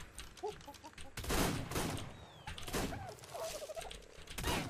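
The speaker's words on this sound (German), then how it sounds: "Da schießt er wieder von hinten." Gunfire from behind in a video game, with bursts of shots and clattering impacts mixed with gobbling, chirping game noises, fairly loud and repeated across the clip.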